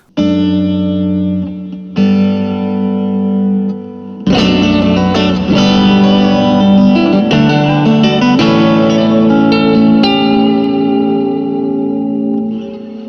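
Electric guitar run through a ZOOM MultiStomp MS-50G church reverb set to a deep mix: sustained chords ring into a long, spacious wash, then strummed and picked notes bloom and linger with lush, hall-like tails, loud and without talk.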